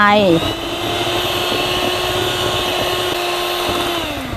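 An electric hand mixer whirs steadily and loudly, beating egg whites with sugar until the sugar dissolves, its motor pitch dropping after a brief higher start, then holding a constant drone.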